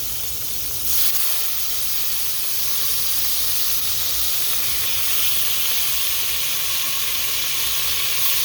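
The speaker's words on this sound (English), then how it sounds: "We're going to deglaze the pan with the marsala wine." Marsala wine poured into a hot pan to deglaze it for chicken marsala, bursting into a loud, steady hiss and sizzle that holds strong and unbroken throughout, close and alone.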